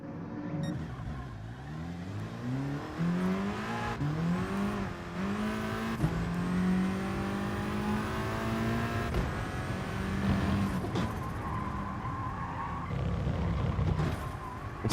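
Volkswagen Scirocco driven in Gran Turismo Sport, its engine note climbing and dropping through repeated gear changes, steady and close with a continuous revving drone across the run.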